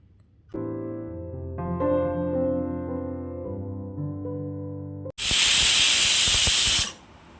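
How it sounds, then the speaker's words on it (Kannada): A pressure cooker of beetroot stir-fry vents its steam in a sudden loud, forceful hiss lasting about two seconds, following a stretch of calm instrumental music. "ನೋಡಿ, ಈಗ ಪ್ರೆಷರ್ ಬಿಟ್ಟಿದೆ."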